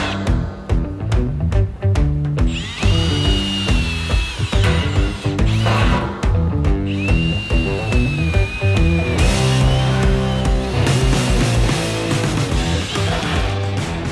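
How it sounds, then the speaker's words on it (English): A power drill cutting holes in a steel drum for a smoker build with a 1 3/8 inch hole saw, grinding loudly in long continuous bursts with squealing metal tones and brief pauses. "we're going to drill those with the correct size hole saw"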